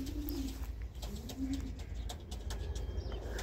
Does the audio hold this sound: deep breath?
no